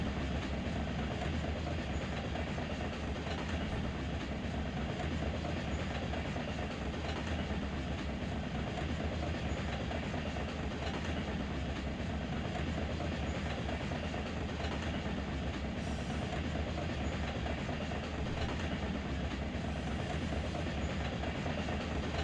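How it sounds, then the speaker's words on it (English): Steady, continuous train rumble and roar in Run 8 Train Simulator at the Barstow hump yard, a low, even drone with faint clicking throughout and no talk. "but I think it's just the train noise."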